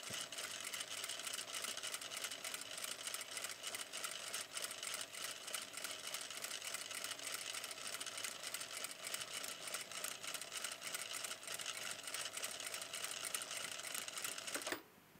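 Sewing machine running steadily through an exercise in controlled stitching, a continuous fast mechanical whir and clatter at close range that stops abruptly at the end.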